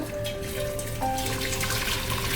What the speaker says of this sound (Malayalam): ഇതിലേക്ക് പാല് ഞാൻ ഒഴിച്ചു കൊടുക്കുകയാണ്